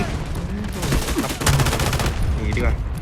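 Rapid bursts of gunfire in the mobile game Delta Force Mobile crackle loudly and continuously, automatic shots overlapping with louder blasts, while a voice talks underneath.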